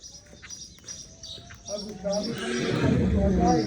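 A mare in a Punjabi rural stable neighs and shifts about, hooves clopping, with a bird chirping early on; someone talks over it as the horse sounds grow louder and busier toward the end.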